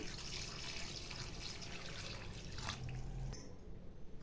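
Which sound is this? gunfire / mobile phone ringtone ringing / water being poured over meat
water being poured over meat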